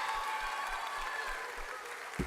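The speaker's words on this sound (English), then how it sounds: "Give her a round of applause" Audience applause for a young cast member at a school spring play of Goldilocks on Trial, an even wash of many hands clapping at a distance, steady and moderately quiet, ending with a faint thump.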